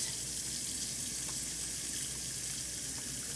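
Running water pours steadily from a faucet into a sink during handwashing, a continuous close hiss with no talking over it.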